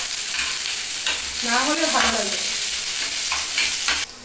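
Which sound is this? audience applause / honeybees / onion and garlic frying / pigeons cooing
onion and garlic frying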